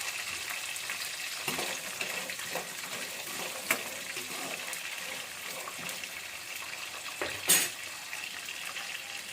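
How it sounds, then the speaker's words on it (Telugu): Cashew nuts sizzling in oil in a pan for temple-style pulihora, a steady soft hiss with faint stirring scrapes and one brief louder clatter near the end. "ఈ జీడిపప్పు కూడా వేసి మంచిగా వేపుదాము."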